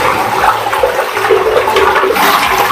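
A toilet flushing in a small renovated bathroom, water rushing loudly and continuously without stopping, a steady close-up flow filling the whole stretch with no speech over it.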